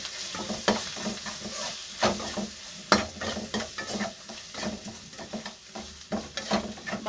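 Spiced mixture of chili powder and salt stirred in a hot pan, a spoon scraping in repeated irregular strokes over a steady sizzle, close and fairly loud with no talking.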